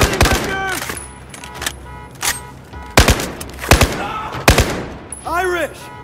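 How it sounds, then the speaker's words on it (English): Gunfire in the Battlefield 4 campaign's Baku mission: several loud, close bursts of rapid automatic fire with short gaps between them and brief shouting mixed in. "I'm firing!"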